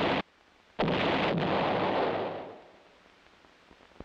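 Field artillery gun firing a single loud, close blast with a heavy boom that rolls and decays over a couple of seconds, preceded by a brief lower thump.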